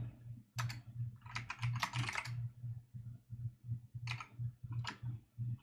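Typing on a computer keyboard during a MonoGame roguelike programming session, with quick bursts of crisp key clicks and short pauses between them, close and fairly quiet over a low steady hum.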